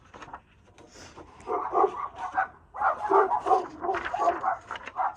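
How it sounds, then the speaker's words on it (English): Several dogs barking indoors close by in repeated loud bursts: a few sharp barks early, then denser overlapping barking that runs through most of the stretch. "my dogs are barking"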